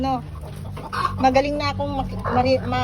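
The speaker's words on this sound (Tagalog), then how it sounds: "narinig mo yung manok na putak-putak" A chicken clucks repeatedly in quick, uneven bursts close by, loud and clear, with a brief voice mixed in.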